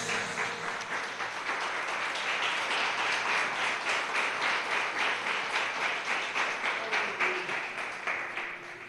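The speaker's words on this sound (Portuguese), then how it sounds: "Você pode aplaudir a palavra de Deus?" Sustained applause from a church congregation for the word of God: dense, even clapping from many hands filling the space for nearly nine seconds, easing slightly toward the end, with no voices on top.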